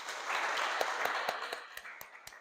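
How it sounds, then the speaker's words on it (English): An audience at a talk applauds in a broad wash of clapping that gradually thins out, ending in a few scattered, separate claps. "the applause sounds like 10 million people"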